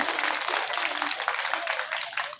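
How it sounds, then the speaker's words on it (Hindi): An audience at a Shrimad Bhagavat Katha gathering applauding: dense, steady clapping from many hands throughout, fairly close and loud, fading slightly at the end. "जोरदार ताली बजावा लोग।"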